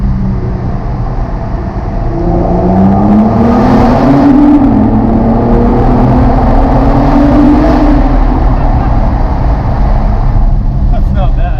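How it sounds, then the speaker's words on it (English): A Nissan GT-R50 pulls hard in third gear with its turbo at full boost, giving a loud, steady rushing roar with a rising engine tone that lasts throughout, close and continuous. "The turbo is coming on at full bore."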